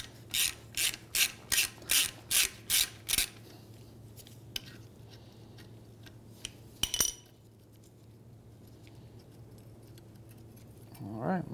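A ratchet clicks in a quick run of about eight sharp, evenly spaced strokes while a 10 millimeter bolt is removed from a strut bracket. A lone metallic clank follows, over a steady low background hum.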